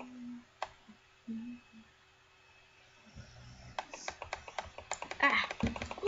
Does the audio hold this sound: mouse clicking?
yes